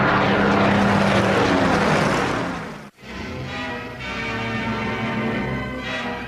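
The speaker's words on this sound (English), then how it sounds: "the young pilots of Mitchell's Spitfires would have to fight for their lives" A Supermarine Spitfire WWII fighter plane roars with a loud, droning propeller engine, a dense sustained rumble that briefly cuts out for a moment, then resumes with a steady hum.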